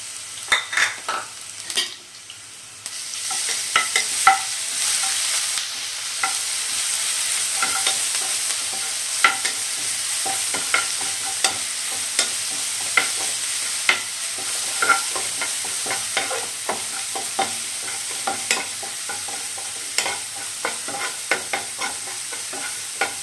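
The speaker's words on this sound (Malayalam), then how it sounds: "അതിലേക്ക് നമുക്ക് ഇഞ്ചി വെളുത്തുള്ളി പേസ്റ്റ് ഇട്ട് കൊടുക്കാം" Continuous sizzling of ginger-garlic paste frying in hot oil, with frequent clicks and scrapes of a spoon stirring against the pan, no talking.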